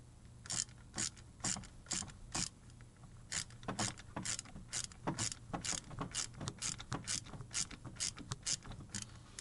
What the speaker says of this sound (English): I'm now going to finish up tightening my hold down.